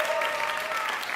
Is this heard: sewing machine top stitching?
no